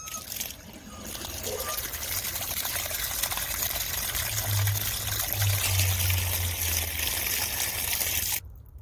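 Tap water runs into a bathroom sink being rinsed out, a steady close trickle and splash with a low gurgling drain, ending abruptly as the faucet shuts off.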